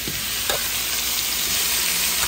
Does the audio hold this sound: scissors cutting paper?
no